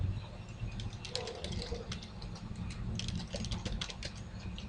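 A password is typed on a computer keyboard, with quick uneven bursts of close key clicks over a low steady room hum.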